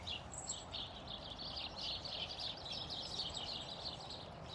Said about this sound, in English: what's happening is birds